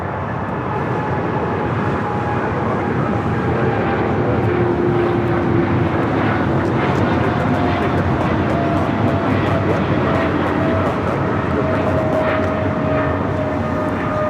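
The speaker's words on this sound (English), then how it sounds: "operated by Polar Air Cargo 718, taking off to Cincinnati on the 777 freighter." Polar Air Cargo Boeing 777 freighter, flying for DHL, takes off from Los Angeles for Cincinnati: a steady, loud jet roar with whining engine tones holds throughout, and a voice talks over it.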